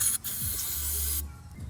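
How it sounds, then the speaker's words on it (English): Short bursts of aerosol brake parts cleaner hiss onto a car part during an Acura RL solenoid leak repair, a loud spray cutting off briefly, resuming, then stopping. "I'm gonna also clean this with brake parts cleaner."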